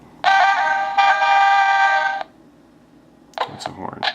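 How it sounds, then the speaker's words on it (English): A toy horn honks from a Game.com handheld video game (Henry), sounding as one loud, steady electronic tone held for about two seconds with a brief dip, followed by silence and then a voice speaking. "That's a horn."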